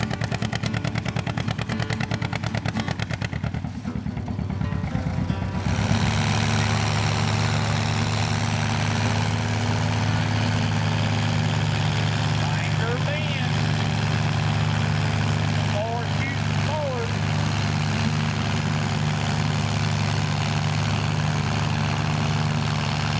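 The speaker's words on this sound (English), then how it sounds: "Now let's go over to the track and watch some of these tractors put through their paces." Tractor engines at a Memorial Day tractor show and pull make a steady, loud, low drone that thickens after a few seconds and holds, with someone talking over it.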